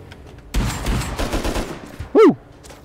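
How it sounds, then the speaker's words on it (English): A long, dense burst of LR rifle fire in modded Rust, loud and near for about a second and a half, then a short sharp sweep of another sound. "I'm getting shot at with LR."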